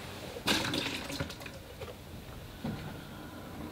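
Fresh water being poured into a large plastic collapsible water bucket for watercolor painting, a splashy rush and gurgle with a second burst later, faint and fairly close, with no talk.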